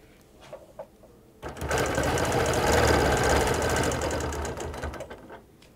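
A sewing machine runs steadily while chain stitching quilt squares along a quarter-inch edge, a loud continuous mechanical whir that starts abruptly after a quiet moment and holds for about four seconds.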